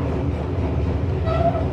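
Fajar Utama Solo economy-class passenger train running on rails, a steady loud low rumble with constant rolling noise and a faint brief tone near the end, heard from inside.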